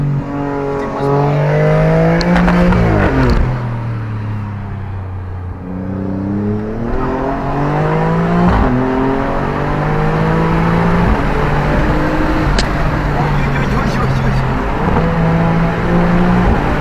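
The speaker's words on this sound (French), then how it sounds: "Oh le bruit. Écoutez-moi ça." An Alfa Romeo Stelvio Quadrifoglio SUV's engine roars from inside the cabin on an open road, rising through the gears in repeated climbing revs with brief dips at each shift, loud and sustained.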